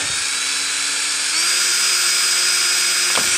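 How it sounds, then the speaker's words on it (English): A power drill whines steadily at high speed, its pitch shifting slightly partway through as it bores through a plastic laundry basket, loud and close. "And then you just drill one."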